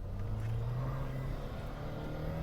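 A Chevrolet HHR SS with 260 horsepower accelerating hard, its engine droning steadily from inside the cabin with a low rising tone throughout, no voices over it.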